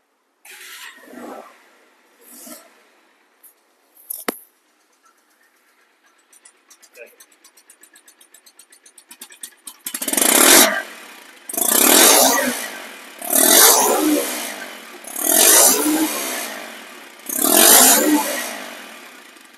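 A nearly new Bajaj Pulsar motorcycle engine starts with a few clicks and sputters, then idles and is revved hard in five loud, evenly spaced bursts, close up, with brief talk near the start.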